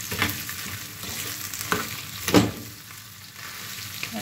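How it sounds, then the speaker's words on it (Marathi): Food sautéing in a pan with a pinch of turmeric, a steady soft sizzle broken by a few sharp scrapes and stirs of a spoon against the metal, close by with no voices. "आता याला मस्त मी परतवून घेणार."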